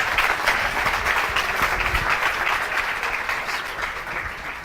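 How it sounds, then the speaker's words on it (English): Audience at the CommUnity Summit in Stockholm applauding a speaker as he takes the stage, a dense, steady wash of clapping from a crowd that fades slightly toward the end, with a faint whoop. "Please give a roaring applause for Anton Eckerström."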